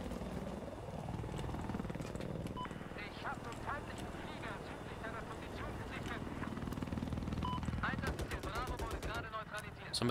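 A military helicopter in the multiplayer video game Battlefield 4 drones steadily throughout, with distant gunfire-like pops and voices talking over the rotor noise.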